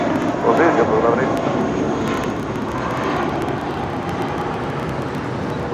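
A JetBlue Airbus A320 departing Los Angeles International Airport gives a loud, steady broadband jet roar that swells slightly early and then holds, with radio voices heard over it.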